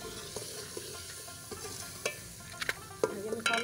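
Ground spices sizzle steadily in a pan while being cooked for aloo palak (potato and spinach). A spoon scrapes and clatters against the pan in sparse, sharper knocks that get louder toward the end.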